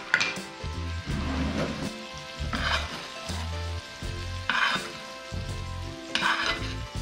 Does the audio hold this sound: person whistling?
no